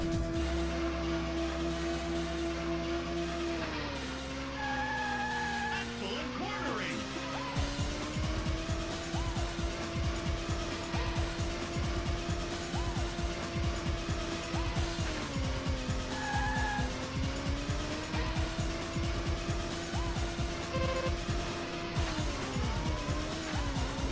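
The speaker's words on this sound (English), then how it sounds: "Whoa, okay, wasn't expecting to drift that, but sure." A race car in the Ridge Racer 2 arcade game drives with a steady, rising and falling high engine whine, with tire squeal during a drift and continuous rumble throughout, loud and close.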